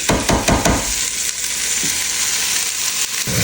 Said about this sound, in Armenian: թողնում եմ մի քիչ կարտոֆիլը գազարի և սոխի հետ տապակվի